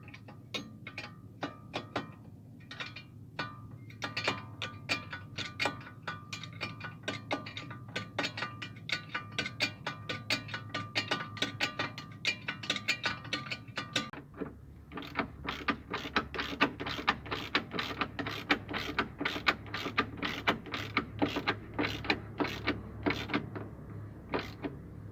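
Rapid ratcheting clicks from a ratchet wrench tightening a nut on the suspension of a VW Vento, coming in repeated bursts of strokes, close and fairly quiet, with a brief pause midway.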